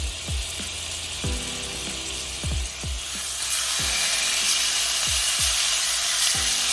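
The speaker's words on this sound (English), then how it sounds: "I'm adding a little bit more butter, and now I'm going to start adding my beef" Beef strips frying in butter in a skillet: a steady sizzle that swells louder partway through, with repeated low thuds and knocks as the meat is moved around the pan.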